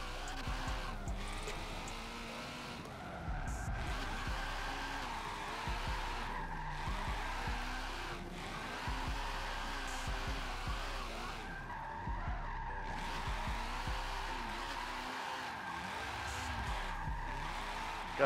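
Tires skid and squeal continuously as a Nissan S13 coupe with an SR20 engine drifts under heavy e-brake use in Forza Motorsport 7, the engine revving and bouncing off the limiter beneath long rising and falling screeches.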